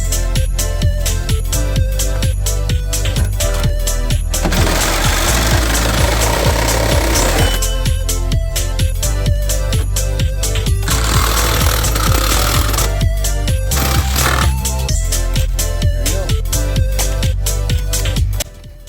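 Power tool grinding rust off the metal of a third-generation 4Runner during restoration, a loud continuous harsh whir that rises into denser abrasive bursts partway through, then cuts off at the end.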